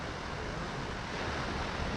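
Ocean waves roll and break at Avila Beach in California, a constant loud roar of surf mixed with wind buffeting a GoPro camera on an e-bike ride, with no talking.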